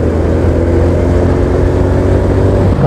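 A Honda Supra X 125 motorcycle with a manual clutch and a welded crankshaft counterweight, its engine droning steadily and loud throughout, as heard during a test ride.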